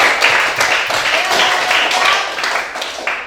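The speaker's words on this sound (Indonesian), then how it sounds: "tepuk tangan untuk Kiren dulu" A classroom claps for a student, a short burst of group applause with dense, uneven hand claps that keeps going and thins out slightly toward the end.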